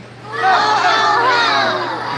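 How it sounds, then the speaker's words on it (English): A crowd of children at a story time with Santa shout a loud, sustained chorus together, voices overlapping in one bright group yell that swells and holds. "how about you give me the 3 loudest ho-ho-hos that you can"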